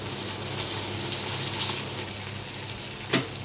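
Hot oil sizzles steadily after a bay leaf is dropped in while making bagara rice, a close, even frying hiss with a spatula clink near the end and no talking.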